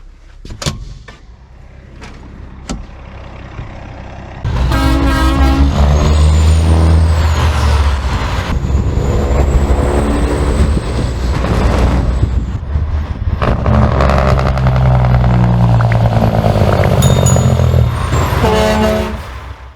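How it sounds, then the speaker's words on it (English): A parked 1978 International Transtar truck idles nearby outside after a few clicks, its engine rumbling loudly with a high whine and a hiss of air brakes. "I don't know if you can hear the truck running outside."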